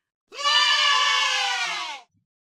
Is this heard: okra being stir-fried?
no